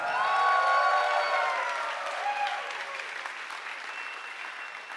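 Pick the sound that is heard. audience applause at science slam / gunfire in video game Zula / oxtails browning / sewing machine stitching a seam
audience applause at science slam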